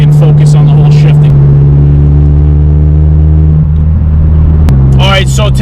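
An 8th generation Honda Civic Si idles while warming up, a loud steady engine drone with a low hum that shifts pitch slightly, under someone talking.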